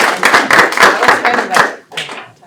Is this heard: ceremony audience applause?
yes